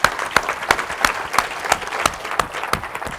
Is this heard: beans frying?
no